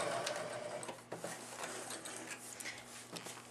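A sewing machine stitching a homemade Christmas stocking gives a faint, busy mechanical chatter with quick clicking bursts and brief pauses, heard close but quiet.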